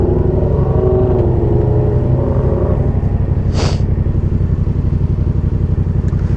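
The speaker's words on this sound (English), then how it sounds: "But this is a tuned motorcycle." A tuned motorcycle idles nearby with a loud, steady, lumpy rumble and a rapid pulsing exhaust beat, while a short hiss sounds partway through.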